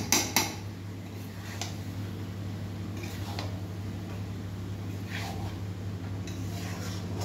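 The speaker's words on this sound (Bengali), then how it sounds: "ভালোভাবে মশলাগুলো মিশিয়ে নিচ্ছে" Spices of ginger, onion, garlic and tomato being stirred in a cooking pot, with occasional metallic scrapes and clinks of a spoon over a steady low background hum.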